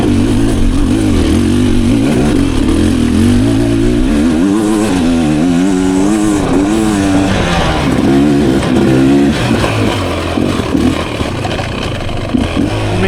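Stock 2023 Beta Xtrainer dirt bike engine heard while riding, a loud close buzzing two-stroke drone that rises and falls in pitch as the throttle opens and eases over the whole stretch.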